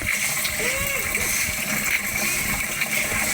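Mountain spring water gushes hard and steady from a tap, making a loud, continuous splashing rush with a faint voice underneath.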